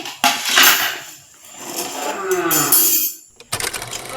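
A pot of thin sugar syrup being lifted off a gas stove while making semolina sweets, with clanking metal knocks and scrapes in a few bursts, a quieter gap between them, and a sharp clatter near the end.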